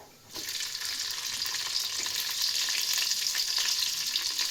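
Mustard seeds, cumin and green chilies sizzle steadily in hot oil in a pan, a continuous bright crackle that rises after a brief quiet start, with no talking.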